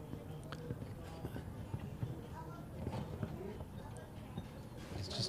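Horse hooves clip-clop at a show jumping event, part of an FEI Jumping World Cup Arab League competition in Abu Dhabi, with irregular thuds under steady commentary and arena noise.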